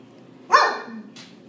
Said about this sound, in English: He really should not be barking.